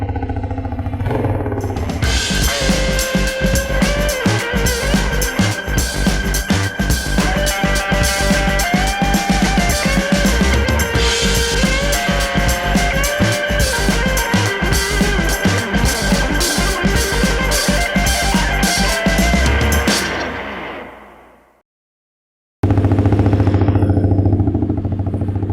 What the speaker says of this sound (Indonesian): nih sekarang kita coba nih si motor CBR 150R CBU custom Neo Scrambler